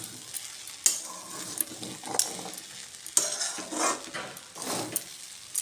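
Vegetables frying in refined white oil for a Sunday breakfast, a close hiss of sizzling broken by irregular metallic clinks and scrapes of a spoon stirring against the pan, with no talking.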